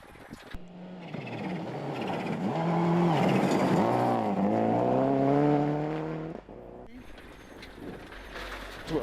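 A rally car tears along a gravel stage at Rally Canterbury in the 2015 New Zealand Rally Championship at over 160 km/h. Its engine note climbs loud and strained through the gears, then abruptly drops off and settles into a rougher drone.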